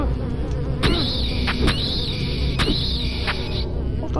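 Insect-like flying creatures in the horror video game Silent Hill 4 buzz in a steady, close, high-pitched drone, cut by a few sharp periodic hits, with no talking.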